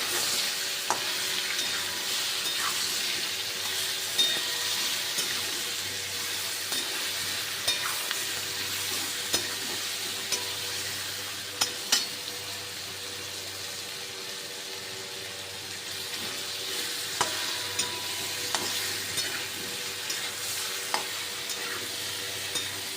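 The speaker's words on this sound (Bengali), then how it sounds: "এবার ভালো করে নেড়ে নেব।" Ripe mango pieces stirred in a hot pan for sweet mango pickle, a continuous close sizzle broken by frequent spoon scrapes and taps against the pan, with no talking.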